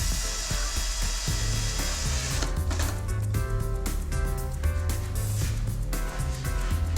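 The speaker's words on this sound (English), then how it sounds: "drill and fix through with a temporary screw" A drill whirs in short, uneven bursts as it drives a temporary screw into timber for a door frame, close up, with faint knocks and rattles between bursts.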